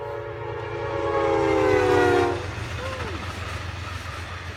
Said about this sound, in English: I'm going to pause just for a second here while the train